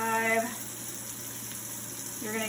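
Hands scrubbed together with foaming soap at a sink during an infection-control handwash, giving a steady close wet rubbing hiss over running water, with brief voice sounds at the start and end.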